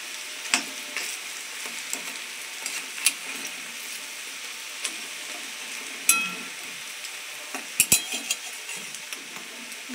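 Food frying in very hot oil with a steady sizzle, punctuated by scattered clinks and scrapes of a utensil as the pieces are turned over in the pan; no talk.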